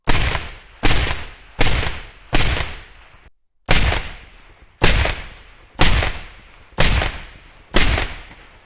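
An MK18 short-barreled rifle fitted with a muzzle brake firing at an indoor range: ten loud, sharp shots in a steady rhythm, a brief pause after the fourth, each blast trailing into a quick echoing decay.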